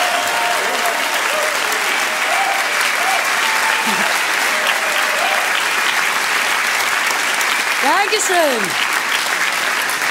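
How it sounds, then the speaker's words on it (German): Enthusiastic studio audience applause at a German television cabaret show, a loud, dense, unbroken wall of clapping filling the whole stretch, with a voice briefly speaking over it near the end. "Begrüßt mit einem enthusiastischen Applaus."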